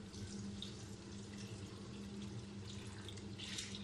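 Steady running water pours continuously with a broad hiss, splashing into a cooking pot, fairly close and with no talking.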